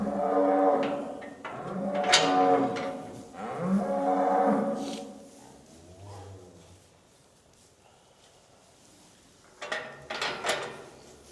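Cows and a heifer on a calving farm moo in several long, loud, deep calls close by, then a quieter stretch before more lowing returns near the end.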